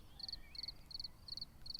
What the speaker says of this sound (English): A rhythmic, steady chirp of the cricket.